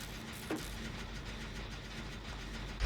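A generator motor is repaired in the video game Dead by Daylight, giving a steady, faint mechanical engine drone that hums evenly throughout, with no talking.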